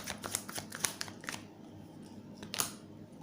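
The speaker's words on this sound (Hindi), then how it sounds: "एक कार्ड और निकालना चाहूँगी" Tarot cards shuffled and drawn from a deck during a reading, a few quiet crisp swipes and flicks spaced out over a hushed background.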